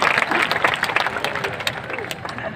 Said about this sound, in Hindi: तालियाँ बजाओ सब।